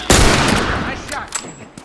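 A sharp, loud gunshot from The Last of Us in a winter forest setting, followed by a long decaying tail and a couple of fainter follow-up cracks, with no voices over it.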